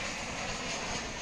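Jet airliner from LaGuardia arriving at Dallas/Fort Worth airport, a brief steady engine roar, moderately distant and even.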